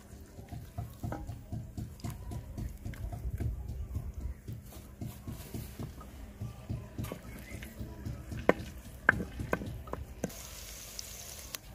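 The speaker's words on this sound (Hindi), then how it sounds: "कढ़ाई हमने चूल्हे के ऊपर चढ़ा ली है, थोड़ा सा बिल्कुल इसमें हमने घी शामिल किया। तो अभी इसमें हम थोड़ा सा प्याज शामिल करेंगे।" Onions frying in ghee in a kadhai on a village stove for baingan bharta, a steady sizzle with repeated scraping stir strokes and soft clatter, close and moderately loud with no talk.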